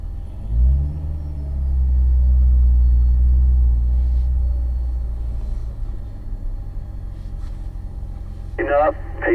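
A car's engine drones and rumbles during a performance driving exercise, swelling as it accelerates and then holding steady, with radio-style speech coming in near the end.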